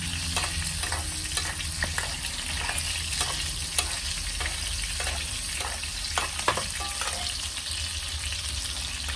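Butter with rosemary sizzling and browning in a hot pan for a steak dinner, a steady loud frying hiss with scattered crackles and pops, plus a few clinks of stirring, with no talking.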